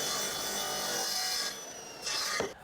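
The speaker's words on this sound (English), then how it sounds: "With the mitres working nicely, I can cut the legs to length." A saw cuts wooden legs to length in a woodworking shop for a hi-fi unit, giving a close, rasping stroke that pauses briefly and then resumes.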